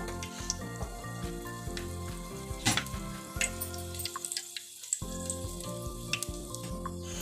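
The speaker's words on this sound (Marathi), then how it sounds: "मी इथे ना कढीपत्त्याची फोडणी घालते" Curry leaves crackle and sizzle in hot oil as a tempering for a Malvani chicken curry, a steady close frying hiss with a brief sharper burst partway through and a short dip near the end, no voices.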